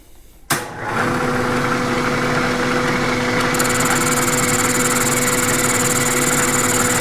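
A boring cutter machining a worn steering joint: after a brief quiet moment the machine kicks in with a sudden cut and settles into a steady loud whir and grind, a high whine joining partway through, with no talk.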